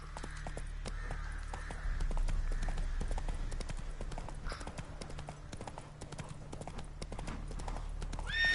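Hooves of Roach, the horse in The Witcher 3: Wild Hunt, clip-clop in a quick, steady galloping rhythm close by, with a brief whinny and a light game soundtrack underneath.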